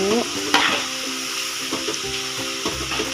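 Snacks crackle and sizzle in hot oil as a utensil stirs through them, giving occasional scraping knocks over the steady frying hiss.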